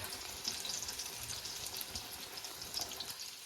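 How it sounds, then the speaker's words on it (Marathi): Alu vadi frying in hot oil, giving a steady, dense crackling sizzle that holds through the clip with small pops and spatters. "हे बघा आपल्या आलू वड्या मस्त की तेलात फ्राय होत आहेत"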